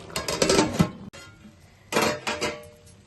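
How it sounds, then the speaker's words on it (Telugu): A metal lid clatters and settles onto a cooking pot of veg biryani after stirring, with short clinking bursts near and clear, a pause, then a second round of rattling. "ఇలా కలుపుకొని మూత పెట్టుకుందాం"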